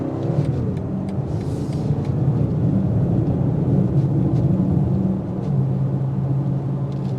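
A 2025 BMW X5 M60i SUV driving, a smooth steady low road and engine rumble from inside the cabin with slight swells, no talk.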